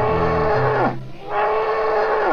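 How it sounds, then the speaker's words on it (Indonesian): A buffalo in the dinosaur park game Jurassic World Evolution 2 gives two loud, drawn-out moos separated by a short pause, heard alone. "Ada juga satu ekor kerbau nih,"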